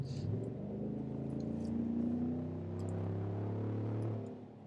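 A 2021 GMC Sierra Denali's 430-horsepower V8 engine revving briefly, with a deep, steady throaty rumble that rises slightly in pitch and then holds before easing off at the end.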